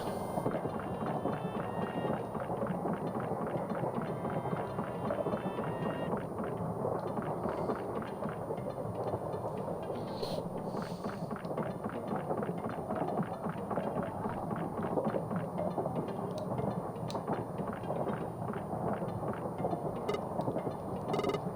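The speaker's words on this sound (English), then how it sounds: "This must be the engine. I can hear humming coming from the other side." Ship-like engine humming on the far side of a locked door in a video game, a steady, muffled mechanical drone with a faint rhythmic pulsing, continuous and unchanging throughout.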